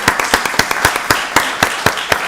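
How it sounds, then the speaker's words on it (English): Applause for county employees at a Rockdale County Board of Commissioners meeting, a short run of close, evenly spaced hand claps from a small group. "Let's give them all a round of applause."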